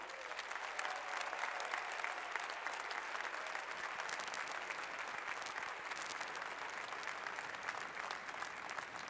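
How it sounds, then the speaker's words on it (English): A large conference audience at AIPAC breaks into long, even applause, a thick, continuous wash of clapping from a big hall that stays steady throughout. "Now that deserves enormous applause."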